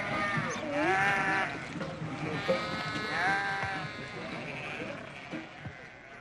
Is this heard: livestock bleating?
yes